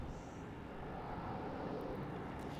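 A Jetstar Boeing 787 leaving the maintenance facility at Melbourne Airport gives off a steady, broad engine rumble and roar heard from a distance, continuous throughout with no voices.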